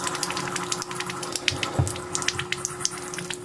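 Water runs and splashes into RV drain traps during winterizing, with a steady pump hum underneath and irregular gurgles and drips on top, heard close with no talking.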